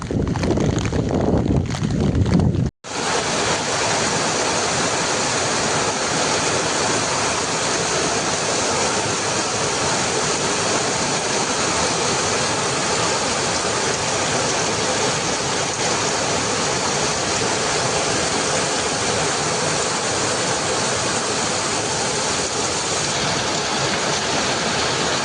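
A monsoon-swollen river in the Konkan countryside during heavy rain gives a loud, steady, unbroken rush of water. It begins abruptly after a short burst of rougher noise and continues without pause.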